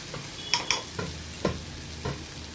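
Ginger garlic paste frying in a generous amount of oil, a soft continuous sizzle broken by several sharp spoon-stirring knocks and scrapes against the pan.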